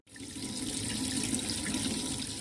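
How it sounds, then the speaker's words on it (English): Hot water gushes steadily from a tap inside an off-grid island cabin, a close, loud, continuous rush that starts abruptly and holds even, with no talking. "We now have hot water, hot running water in our off-the-grid cabin."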